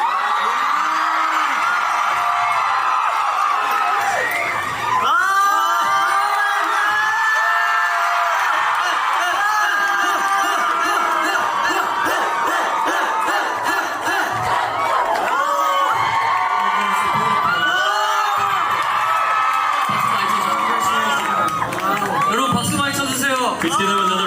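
A concert crowd cheers, whoops and screams continuously in a loud, dense wash of voices, with shrill shouts rising and falling throughout and clapping mixed into the roar.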